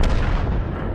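A 105 leFH18B2 artillery gun fires in a tank video game, producing a single loud, close boom that rolls on as a dense, heavy roar for the whole second.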